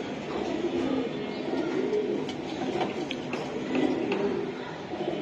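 Pigeons coo steadily at a pigeon farm of racing and Giribaz breeds, soft overlapping coos and bird calls layered through constant background chatter of the flock, fairly close and continuous.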